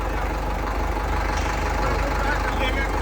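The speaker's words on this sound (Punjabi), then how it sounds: "ਟਰੈਕਟਰ ਦੀ ਹੁਣ ਆਵਾਜ਼ ਚੈੱਕ ਕਰਿਓ ਸਟਾਰਟਿੰਗ" An Indofarm 3060 tractor engine chugs steadily at close range, a loud continuous diesel rumble with no pauses throughout.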